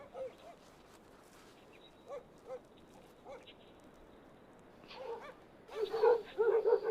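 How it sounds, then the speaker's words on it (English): Several dogs bark at a snow leopard sheltering under a rocky mountain ledge, a few scattered distant yelps early on, then a louder burst of repeated barking near the end. "The dogs even challenge a powerful cat like Namka, but he does not seem greatly troubled by their barking"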